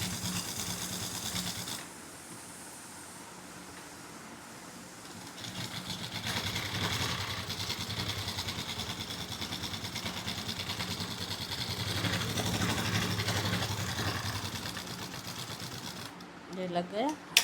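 A sewing machine stitches along the edge of a kurti in bursts of fast mechanical whirring that start and stop, faint and close, with someone speaking Hindi over the work.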